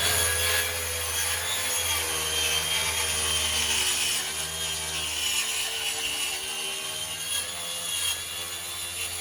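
A power saw cuts roof boards in place on a flat roof of a garden room build, a loud continuous whining cut with a grinding wood texture that eases slightly toward the end.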